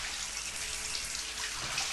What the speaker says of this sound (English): Tilly picked up the shower hose in one hand and a long-handled brush in the other and started to give the bear a thorough shower